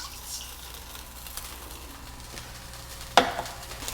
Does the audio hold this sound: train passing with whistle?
no